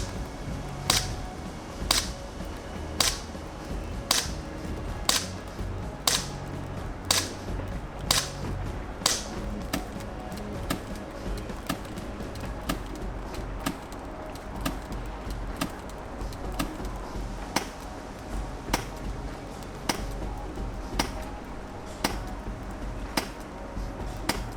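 An airsoft gas pistol is fired repeatedly from five meters away. About twenty sharp, dry cracks come at a steady pace of roughly one per second over a low background rumble, with no speech.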